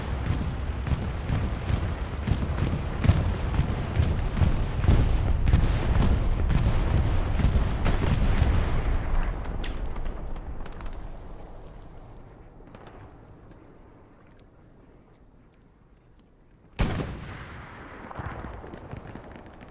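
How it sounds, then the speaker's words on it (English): An Allied bombing run in a World War II strategy video game sends a dense barrage of booming explosions that rumble on for about ten seconds before fading into a low roar, then a final sharp blast with a short tail. "Bombing run coming on through. This will be an Allied bombing run."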